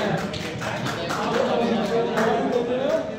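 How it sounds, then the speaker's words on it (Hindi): Audience at a customer meeting clapping for a correct answer, scattered hand claps mixed with murmuring voices and a faint tonal sound underneath. "इसके लिए तालियां बजाइए।"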